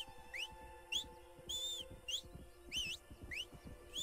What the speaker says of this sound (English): quit whistling